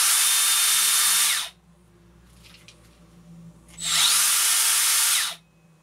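A Makita 18V cordless belt sander (XSB01/DBS180) runs at 1700 RPM in two loud, steady bursts of about a second and a half each, with a quiet gap between them. The motor spins down quickly at the end of each burst.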